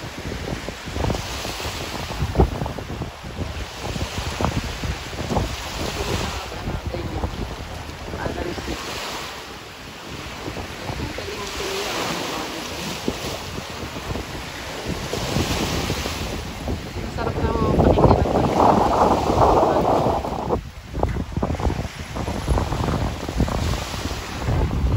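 Ocean surf at high tide washes steadily against the shore, heavy wind buffeting the microphone throughout, with a swelling louder wave surge near the end.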